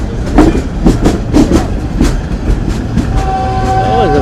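A passenger train runs on rails in a parallel move near Platform 7 on a Karachi to Lahore run, loud and close, with rhythmic clickety-clack wheel beats, and a horn blasts near the end.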